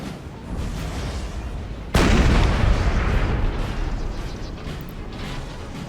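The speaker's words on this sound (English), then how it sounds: "Artillery firing a little bit too low there." Cannon fire from Napoleonic artillery in Napoleon: Total War: a sudden loud boom at about two seconds, then sustained rumbling battle noise of distant shots and impacts over an ongoing low roar.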